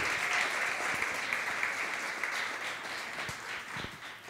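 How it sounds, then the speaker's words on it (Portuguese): A church congregation applauds during a sermon, a dense, steady wash of clapping that fades slightly toward the end. "Você pode aplaudir o Senhor?"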